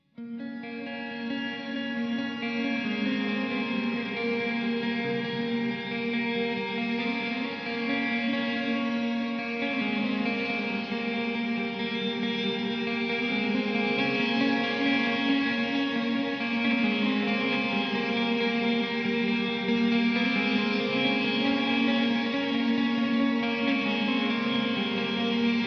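A Digitech Supernatural ambient reverb pedal plays a steady effected tone, washed in chorus-like shimmer, echo and a touch of distortion, sustained and loud for the whole stretch with no voice.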